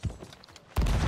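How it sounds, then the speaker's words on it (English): A gunshot in the pirate video game Sea of Thieves cracks loudly near the end after quieter game sounds, one broadband blast that stays loud to the close. "They shot me once."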